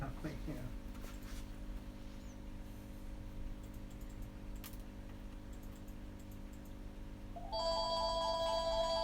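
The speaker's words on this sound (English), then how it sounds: "There's a phone ringing." A telephone rings inside an aquarium shop, steady electronic tones cutting in near the end over a quiet room hum, with faint clicks and typing-like ticks earlier.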